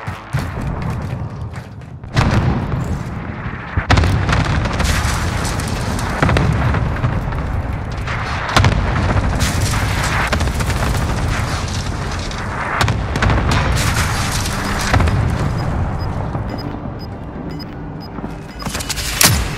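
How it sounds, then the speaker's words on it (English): Cluster strike explosions in a battle royale video game, a long run of heavy booming blasts and thuds rolling one after another, loud and close, with brief gaps of quieter rumble between volleys. "Allied cluster strike inbound"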